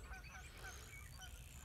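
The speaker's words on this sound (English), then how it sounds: "I hear a goose." A goose honks in the distance at night near a burning brush pile, a few faint nasal calls over low steady background rumble.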